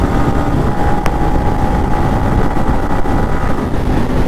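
Steady, loud wind roar buffets the microphone throughout as a motorcycle speeds along a highway at high speed, with a dense broadband rush and one brief sharp click partway through.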